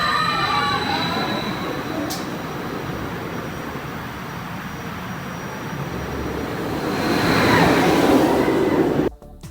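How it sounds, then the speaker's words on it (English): A roller coaster's linear motor launch (LSM or LIM) powers up with a sustained rising electric whine over a loud rumbling roar that swells toward the end, then cuts off abruptly. "LSMs and LIMs are the ones that often make this kind of powering up noise."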